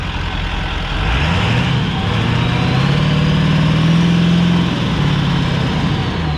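A truck engine with a boost leak runs loud and close, a steady heavy drone with the pitch rising and holding, alone with no talk.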